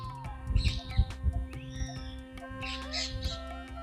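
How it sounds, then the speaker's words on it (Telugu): Bright bird chirps and tweets come in short bursts over a low steady hum in a mango orchard, with some soft background noise between calls. "పక్షుల కిలకిల రావాలు ఎలా ఉన్నాయి చూడండి"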